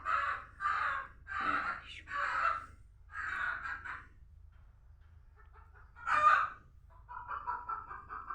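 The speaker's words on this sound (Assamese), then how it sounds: "আমাৰ ঘৰত মুৰ্গী আছে, কুকুৰা এই হুলস্থুল কৰি আছে বাহিৰত" Chickens clucking and squawking outdoors in a series of loud, uneven calls, with a rooster-like cry partway through.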